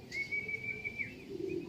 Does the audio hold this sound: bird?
yes